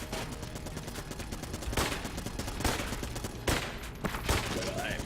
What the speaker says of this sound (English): put myself in the line of fire for a hot second here while I get some damage down on Mr. Gatling Goal